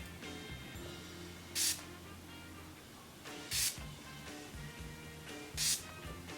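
Urban Decay All Nighter setting spray misted in three short, bright spritzes spaced about two seconds apart, close to the mic over a quiet room with faint background hum.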